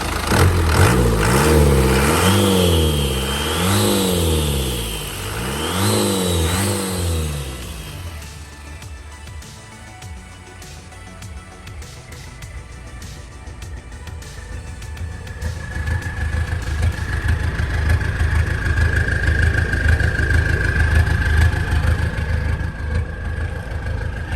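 A Dragon SLX TFR pickup engine revs loudly two or three times, rising and falling in pitch, then drops back to a low steady idle with a faint whine.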